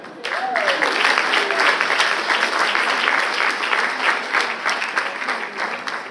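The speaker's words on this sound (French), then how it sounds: "Encouragez-les, s'il vous plaît. Vos applaudissements." Enthusiastic audience applause at a business and leadership conference in Paris as a fashion show begins, dense steady clapping from a crowd with a voice speaking over it.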